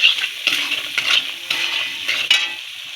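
A utensil stirs dried peas and potatoes in spiced oil in a pan, giving repeated scraping strokes roughly every half second with a soft sizzle underneath, close and clear with no talk.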